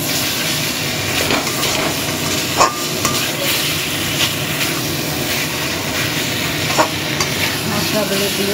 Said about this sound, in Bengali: মশলাগুলো দিয়ে আমি একটু কষাচ্ছি ভালো করে।